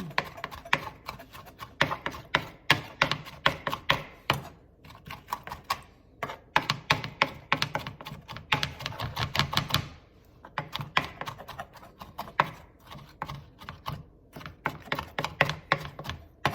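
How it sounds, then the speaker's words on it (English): A knife slices a juicy tomato on a cutting board while making tuna salad, giving quick, steady taps and clicks that run nearly continuously and sit close and fairly loud. "cutting was not too much a chore, being that this tomato is pretty juicy"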